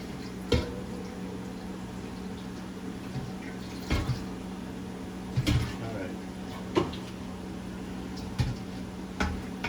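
Water runs steadily from a tap while a pot for Jamaican stew beef is rinsed, with periodic clunks and splashes of the pot being handled and a voice talking underneath.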